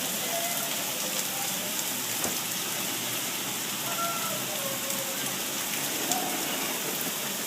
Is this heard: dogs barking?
no